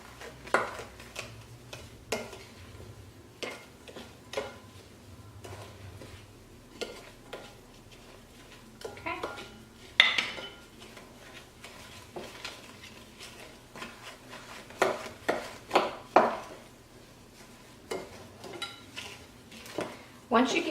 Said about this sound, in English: Then mix it up.